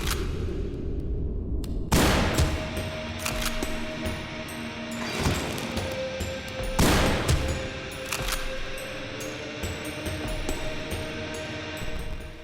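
Gunfire in The Hex, a few loud separate shots spaced seconds apart, each with a ringing tail, over a background of sustained tonal game sounds.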